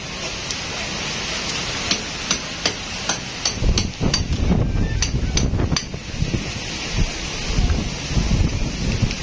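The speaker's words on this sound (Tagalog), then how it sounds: "ang lakas ng hangin" Strong wind during a typhoon by the sea, buffeting the microphone in a steady rushing roar, with sharp metallic knocks and bangs clustering in the middle.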